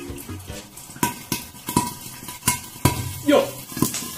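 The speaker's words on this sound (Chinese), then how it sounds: "你看这个煎生煎多吓人啊！" Shengjian buns pan-fry in oil and water under a lid over medium heat, crackling and sizzling with sharp, irregular pops and clattering knocks against the covered pan at close range.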